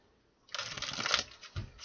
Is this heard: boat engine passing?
no